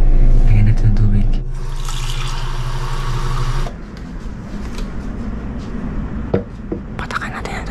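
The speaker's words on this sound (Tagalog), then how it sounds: "Lagyan natin ng tubig." Water poured in a single steady rushing stream for about two and a half seconds, close and fairly loud, framed by quiet whispering voices before and after.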